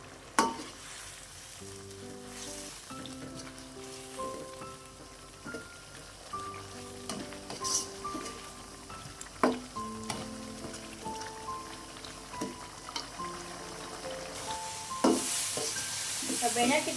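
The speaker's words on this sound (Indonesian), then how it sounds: "Cabenya kita masak sampai bau langunya hilang ya, supaya cabenya matang dan nggak pedas teman-teman" Red chilies and tomato fry in a pan for squid sambal, a continuous crackling sizzle under background music with occasional stirring scrapes, growing brighter toward the end.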